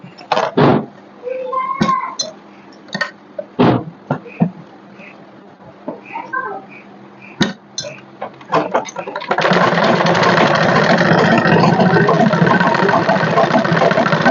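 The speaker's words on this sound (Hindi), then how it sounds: "हम ये तीसरी प्लेट पे सिलाई लगाऊंगी।" A sewing machine stitches the pleats of a kurti. Scattered clicks and handling knocks come first, then the machine runs in a steady, loud, continuous whir through the final seconds.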